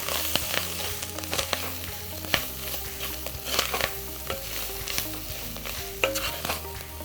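Baby clams being dry roasted and stir-fried for a curry in a pan, with a steady sizzle and frequent sharp pops and stirring scrapes, close and continuous with no talking.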